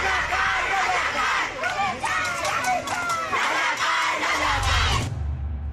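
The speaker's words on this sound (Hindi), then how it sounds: "लोग सड़कों पर उतरकर ये नारे चिल्लाने लग गए" A dense crowd of street protesters in Bangladesh shouts and chants slogans together, a loud and continuous mass of overlapping voices that runs steadily throughout and then cuts off sharply near the end.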